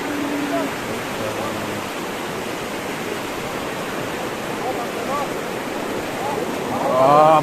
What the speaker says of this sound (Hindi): पानी का बेस बहुत ज़्यादा हो रहा है।